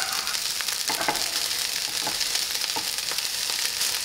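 Lao nam khao rice frying and crisping in a pan, a steady close sizzle with a few soft scraping taps as it is mashed down, no voices.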